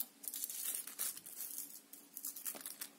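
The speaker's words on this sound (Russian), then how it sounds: "давайте следующий пакетик откроем" Paper cosmetic packet being torn open, a quiet bout of crinkling and ripping with short tearing bursts, close to the ear, no talking.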